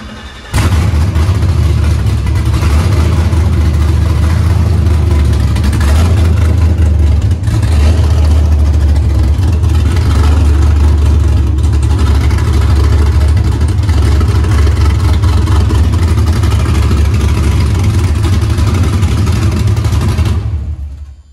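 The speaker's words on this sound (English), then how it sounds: "if I go ahead and crank the car up" A 1973 Chevrolet Impala with a swapped-in Gen V LT1 engine runs steadily and loudly up close, a deep continuous rumble holding for about twenty seconds with slight surges, then cutting off at the end.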